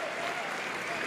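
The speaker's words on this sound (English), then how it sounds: "Getting a round of applause from the fans." Badminton fans applauding in an arena during a men's doubles match, a broad, even wash of clapping from a large crowd, fairly distant and soft, with a faint tone running underneath.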